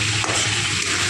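A splash of water hits spice paste frying in a pan for a Bengali potato and green pea curry, giving a brief, loud, steady hissing sizzle with no talk.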